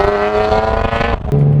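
A BMW E46 M3 accelerates hard, its engine revving loud and close with a strong harmonic howl, then briefly dipping before pitching back up at lower revs after a gear change.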